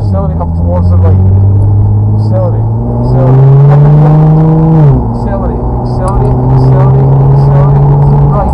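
A Nissan GTR accelerating on a race track with a loud, close engine that rises in pitch through the gears, drops at a shift, then climbs again while people talk over it.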